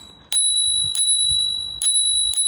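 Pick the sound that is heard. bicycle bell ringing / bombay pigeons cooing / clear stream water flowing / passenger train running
bicycle bell ringing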